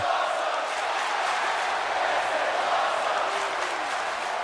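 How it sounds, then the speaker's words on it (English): A large arena crowd in the wrestling game WWE 2K17 roars and cheers steadily throughout, a dense wash of voices. "Listen to this crowd."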